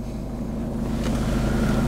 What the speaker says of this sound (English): So let's keep the engine running.